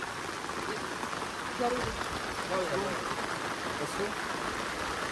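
Rain falls steadily at a resort in Kakkadampoyil, Kerala, making a continuous close hiss of drops throughout, with faint voices murmuring underneath.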